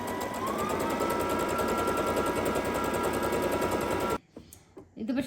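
A Brother GS2700 sewing machine stitches a scallop pattern on a two-layer pillowcase border, a loud rapid steady needle chatter that stops abruptly near the end, leaving a few faint handling clicks.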